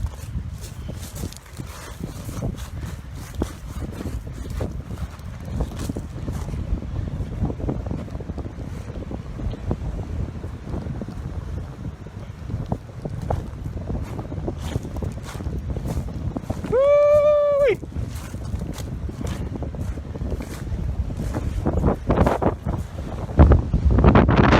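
Strong gusting wind on a beach on the east coast of Spain near Valencia, buffeting the microphone in a loud continuous roar with surf beneath and a brief tonal whistle partway through.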